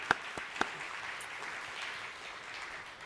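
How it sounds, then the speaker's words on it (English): Quiet, thin applause from an audience at a middle school spring athletic awards ceremony, with a couple of sharper claps standing out at the start before settling into a soft, even patter. "So if we can give them all a big round of applause"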